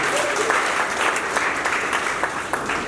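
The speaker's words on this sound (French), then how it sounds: "Applaudissements pour elle." An audience at an opera house inauguration applauding, a steady wash of clapping with a few sharper claps standing out, lasting throughout.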